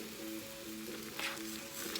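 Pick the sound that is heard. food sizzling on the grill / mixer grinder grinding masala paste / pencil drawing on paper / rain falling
food sizzling on the grill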